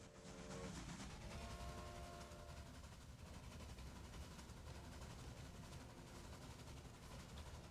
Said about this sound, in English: first train to Kingman coming in.